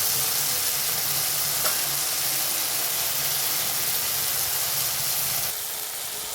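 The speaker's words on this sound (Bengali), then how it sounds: "টমেটো আদাটা আমার ভাজা হয়ে গেছে" Tomato and ginger fry in a pan with a steady, loud sizzle and hiss that runs unbroken, easing slightly toward the end.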